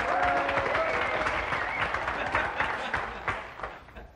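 A studio audience applauds a contestant on a dating-style show, the clapping loud and continuous before gradually tapering off, with faint voices underneath.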